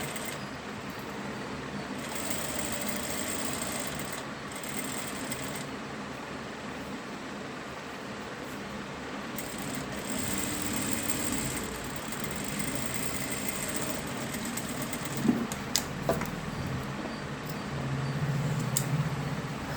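A sewing machine with a normal presser foot stitches piping cloth, a steady, continuous motor drone with brief stops and restarts, close and moderately loud, with no talking.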